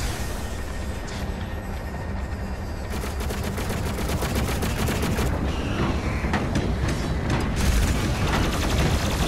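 Heavy weapon fire from the BFG 10,000 in the video game Doom Eternal, a dense, loud barrage of rapid blasts and mechanical clatter that continues steadily throughout with no speech.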